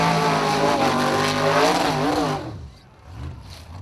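Formula Offroad buggy on a hill climb track, engine revving hard and loud with rising harmonic whine, then cutting away sharply to a quieter rumble near the end.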